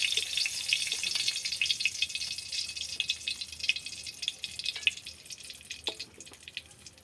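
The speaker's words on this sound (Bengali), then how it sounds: "তেলটা গরম হবে, দিয়ে দেব শুকনো লঙ্কা" Dried red chillies fry in hot oil, giving a soft, steady crackle and sizzle with scattered sharp pops, fairly quiet and close, with no voices.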